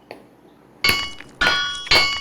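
A hammer strikes a porous rock to break it into small pieces: three heavy, close blows about half a second apart, each with a sharp crack and a brief ringing tail, after a quiet start.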